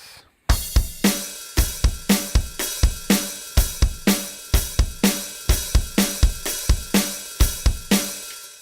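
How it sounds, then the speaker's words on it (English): A fuller rock drum beat for a song, played on a kit with extra kick drums, thumps steadily for about eight seconds, with sharp, evenly spaced hits and cymbal wash ringing between them, close and loud with no talking. "that's going to bring us into a much fuller beat, more kick drums on the go"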